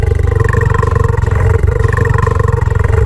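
A tiger's roar in an animated Hindi moral story set in a jungle, a loud, sustained, rumbling growl with a fast pulsing texture that continues for about three seconds and then cuts off.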